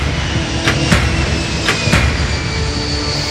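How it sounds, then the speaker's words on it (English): Japan Airlines plane, the jet of Flight 123 in 1985, taking off from Haneda Airport in Tokyo: a loud, steady engine roar with a few sharp clanks and thumps, no voices. "The same JAL plane takes off from Haneda Airport,"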